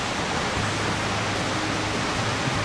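A monsoon waterfall on a steep climb to Siddhagad fort roars as a steady, broad, unbroken rush of falling water, moderately loud and without any voices.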